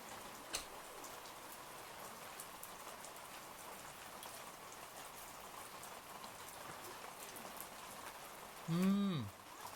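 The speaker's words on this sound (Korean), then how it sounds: "봄 비입니다. 마치 봄에 내리는 비처럼 많이도 내립니다." Spring rain falling steadily outdoors near a garden bed: a soft, even hiss of drops with faint scattered ticks throughout, and a brief louder tonal sound near the end.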